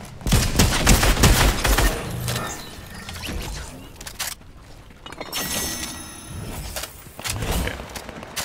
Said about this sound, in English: Shooting coming out of it